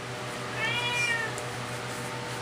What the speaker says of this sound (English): We got a cat in here too